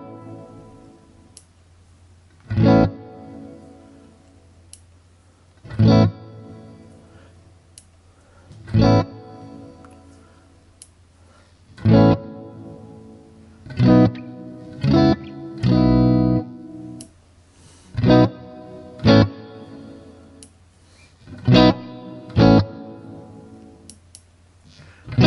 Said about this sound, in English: we can press it just to get some different types of reverb